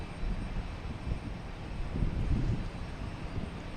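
A JetBlue Airbus A321neo arriving from Dublin at Boston Logan, its engines a steady low roar swelling slightly midway, heard at moderate distance with some wind noise and no talk.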